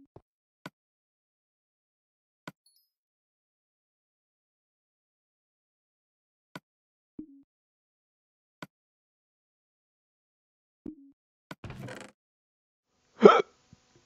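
A person hiccups about seven times, each one a short, sharp catch spaced irregularly several seconds apart over near silence, with the last hiccup the loudest.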